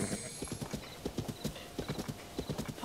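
A horse trots on ground in The Legend of Zelda: Tears of the Kingdom, its hooves making a steady, rhythmic clip-clop at quiet level with faint background game ambience.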